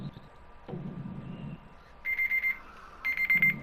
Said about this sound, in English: Alright, that's my alarm.